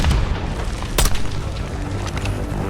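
Mortar blasts boom in Call of Duty: Black Ops, a heavy roaring wash of battle noise with one sharp, loud crack near the middle and fainter distant bursts after it.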